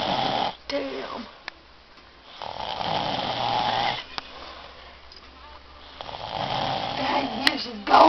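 A sleeping man snoring loudly nearby, long rasping breaths in slow rhythm with sniffing and wheezy pauses between them, no talk over it.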